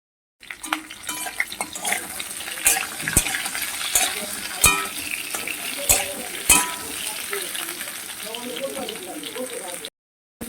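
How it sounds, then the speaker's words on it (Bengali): Green bananas and potatoes fry in a pan with a moderate sizzle and sharp clacks from stirring, and a voice talks in the background. "এবার কাঁচকলা দিয়ে আলুর সঙ্গে কাঁচকলাগুলোকে খুব ভালো করে ভেজে নেব"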